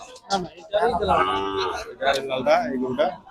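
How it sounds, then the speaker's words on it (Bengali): A local cow moos at a Dinajpur cattle market, a drawn-out lowing call mid-clip with a shorter call near the end, over busy market chatter and voices. "দেশি গরু ভাই দেশি গরু"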